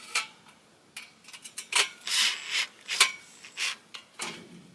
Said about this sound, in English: So we'll screw on one side